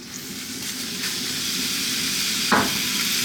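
Ground beef mince sizzles in a hot wok with a touch of sunflower oil, a constant close hiss with one brief louder splutter, and no one speaking.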